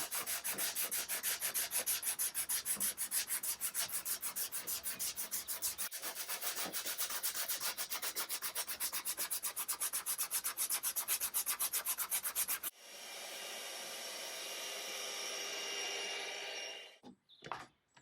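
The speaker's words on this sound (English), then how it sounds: "And of course I did some sanding as well." Close, rhythmic back-and-forth rubbing as wood veneer on an Art Deco sideboard is sanded by hand, quick regular strokes for about twelve seconds, then a smoother continuous sanding hiss before stopping.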